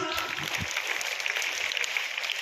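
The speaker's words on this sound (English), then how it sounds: "Children, please give the round of applause" Children clapping at a school ceremony where student cabinet members are sworn in at St. Elizabeth school, a dense, lively round of applause close by with a few voices underneath.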